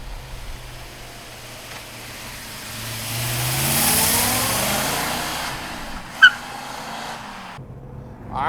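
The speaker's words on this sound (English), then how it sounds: "let's take the Boss Mustang for a ride" A numbers-matching 1970 Ford Boss 302 Mustang V8 rumbles, swells into a steady rising rev as it drives off, then fades, with a short sharp click near the end.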